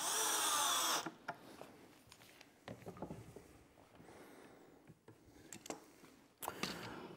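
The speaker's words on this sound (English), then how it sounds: "Now we just have to drill 2 locations on each joint" A power drill whines loudly for a second while drilling a wood joint, then stops, followed by scattered knocks, clicks and handling noises, ending with another brief burst of drilling.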